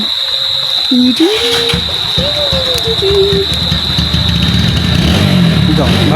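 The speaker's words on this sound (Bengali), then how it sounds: "ছেলেটা আসছে বাইকে নিয়ে" A motorcycle engine rumbles low and steady as a boy arrives by bike, half buried under several voices talking and calling out nearby.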